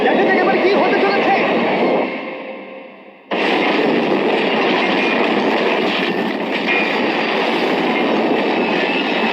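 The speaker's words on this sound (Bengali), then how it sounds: "ভাই ট্রেন খুব জোরে যাচ্ছে।" A train in a video game rushes along at speed, a loud continuous roar of rolling wheels and rail clatter that dips briefly and then surges back at full volume.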